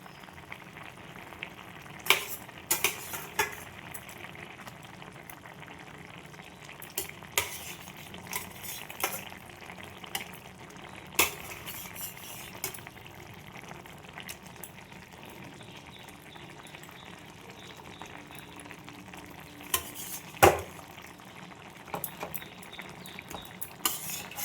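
Fried bata fish go into a simmering jhinge curry, with wet sizzling and bubbling under steady stirring and occasional sharp clinks of a utensil against the pot; no one speaks.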